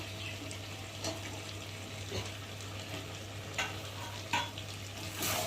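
Potatoes and tomatoes being stir-fried with meat in a pan: a steady low sizzle with occasional soft scrapes and clinks of stirring, fairly quiet and continuous with no talking.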